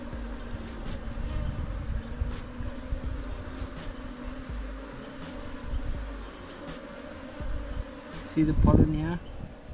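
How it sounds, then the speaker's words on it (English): Honeybees buzz in a constant soft drone around an open hive, a fairly faint swarm hum that runs under nearby voices, with a short louder rustle near the end. "That's a lot of bees, boy. That's a lot of bees."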